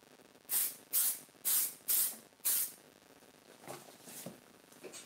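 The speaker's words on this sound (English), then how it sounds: "I spray fix again." Aerosol fixative sprayed over a colored chalk pastel car sketch: five short, loud hissing bursts in a steady rhythm, followed by quieter rustling, with no voices.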